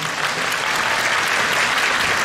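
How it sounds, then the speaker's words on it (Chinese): Dense, loud applause from a theatre audience at a stage play preview in Tianjin, an even wall of many clapping hands that never lets up. "掌声欢迎。"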